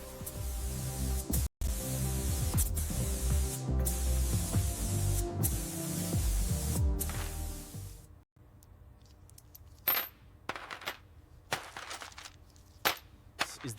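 Fine garnet abrasive blasts the underside of a 1988 BMW M3 E30 with a dense, steady hissing roar for about eight seconds, broken by a couple of brief pauses, then stops, leaving quiet room tone with scattered clicks and taps.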